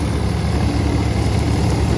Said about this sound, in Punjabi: ਤੇ ਬਾਈ ਟਰੈਕਟਰ ਜਮਾ ਖਾਲੀ ਮਗੂ ਚੱਲੀ ਜਾਂਦਾ ਕੋਈ ਲੋਡ ਨਹੀਂ ਹੈਗਾ